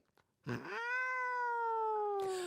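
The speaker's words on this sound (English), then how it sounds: "That was Space Cat chimes in several times in that episode." A single long, drawn-out cat meow, clear and close, rising then slowly falling in pitch, with faint handling noise before and after.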